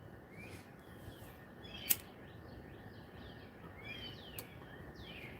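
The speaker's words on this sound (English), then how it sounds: "listening to the birds sing to me." Faint bird chirps and short song phrases scattered over a steady outdoor background hiss, with one sharp click partway through.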